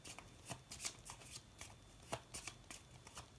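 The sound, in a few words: tarot cards being shuffled and drawn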